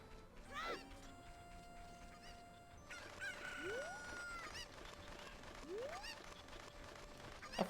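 Cucco chickens in Zelda Ocarina of Time crow and squawk in a game scene, rising synthesized calls repeating over a steady background tone, fairly close and clear, with no talking over them.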